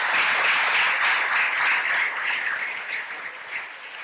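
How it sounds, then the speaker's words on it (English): A crowd applauds young performers at a church harvest service, a steady dense wash of clapping that stays loud throughout and tapers slightly toward the end, with no talking over it. "Give him a round of applause."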